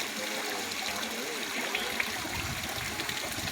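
Water pours steadily at Bhairavakona waterfall near Nellore, a continuous rushing and splashing flow heard close by, with no voices.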